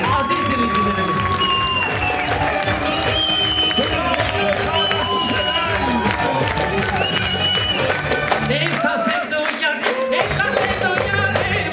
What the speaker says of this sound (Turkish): Alkışlarımızın muhteşemliği.